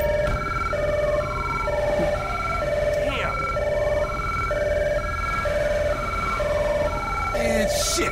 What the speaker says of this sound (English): I want you to get out of here with that siren.